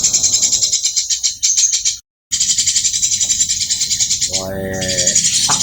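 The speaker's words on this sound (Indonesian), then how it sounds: "sekali lagi digital Moncergo mastering suara burung alami" Natural songbird calls for bird mastering ring out loud and close in rapid repeating bursts, cut by a short silent gap, with another call pattern joining near the end.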